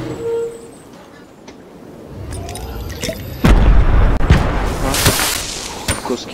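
Gunfire and explosions from a shooter video game: a few sharp booms and cracks in the second half, loud and close, amid quieter game ambience and a player talking.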